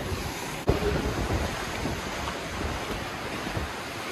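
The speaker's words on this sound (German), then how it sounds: "das Meer ist heute ein bisschen wellig, aber sehr schön" Sea waves washing and breaking on the shore at Skikda, Algeria, with a constant wash of wind noise, and a single sharp knock near the start.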